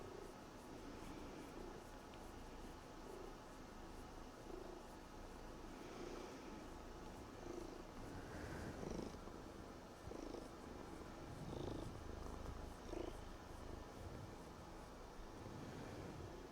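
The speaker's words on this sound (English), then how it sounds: "So you can probably hear some good purrs." A cat purrs right beside the microphone, a faint, steady low rumble that carries on through the whole stretch over soft room noise with no talk.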